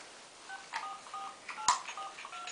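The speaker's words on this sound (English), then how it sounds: "I think we've got a phone in there." A toy phone plays a scattered series of short dialing tones, close and fairly faint, with a small click partway through.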